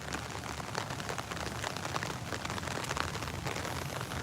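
Rain falls on a garden, a steady patter of drops striking leaves and surfaces, dense and fairly close, with no voices.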